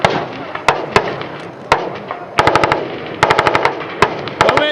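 Marine Corps machine gun section firing on a live range at 29 Palms: loud, close bursts of rapid automatic gunfire, short rattling strings separated by brief pauses, with single sharp shots between bursts.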